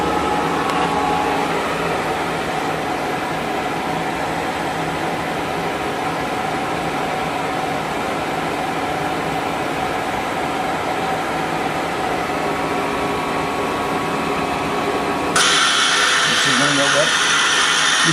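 KSI SQC-38 CNC Swiss-type lathe running at 3000 RPM, heard from a few inches away as a loud, steady whirring drone with dense hiss that holds constant, then shifts slightly brighter near the end.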